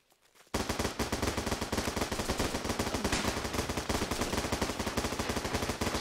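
Sustained heavy gunfire in the military shooter game Running With Rifles, a loud continuous roar of rapid overlapping shots that starts abruptly after a brief quiet moment and runs without pause.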